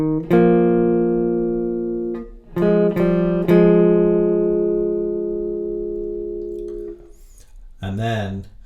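Clean electric guitar plays a jazz phrase, a few plucked notes and short chords ringing out and sustaining, close and alone, with a brief strum at the end.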